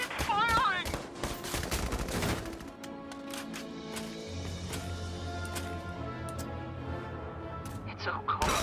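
Bursts of gunfire from the video game Valkyria Chronicles 4 crackle at the start and again near the end, with game music and tones sustaining between them and talk at the opening.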